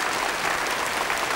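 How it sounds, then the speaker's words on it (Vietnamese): Audience applause at a comedy gala stage show, a steady dense wash of clapping filling the whole moment, loud and close with no talk over it. "Mời quý vị khán giả hãy dành cho họ một tràng pháo tay thật lớn."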